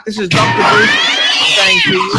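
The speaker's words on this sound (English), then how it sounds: "I believe that was a cat sound effect" A loud, drawn-out cat meow effect plays during a livestream, wavering and caterwauling over a voice talking at the same time.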